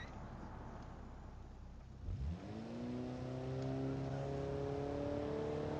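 A small car engine of about 90 horsepower revs up in BeamNG, rising from a low idle after a brief thump into a steady climbing whine that holds loud and continuous.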